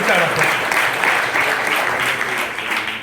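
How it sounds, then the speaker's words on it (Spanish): An awards gala audience at a youth football tournament applauds steadily, a dense wash of clapping lasting the whole stretch at an even level. "Muy bien, un aplauso"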